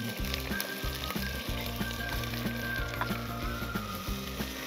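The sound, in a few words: tomatoes and green chillies frying with garlic ginger paste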